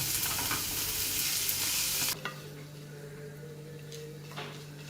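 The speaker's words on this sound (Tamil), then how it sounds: "நம்ம ஒரு தாளிப்பு போட்டிருக்கோம் இல்லைங்களா" Loud sizzling of tempering spices frying in hot oil for curd rice for about two seconds, then it cuts off abruptly, leaving a low hum and faint kitchen clatter.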